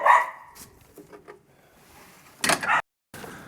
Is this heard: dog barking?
yes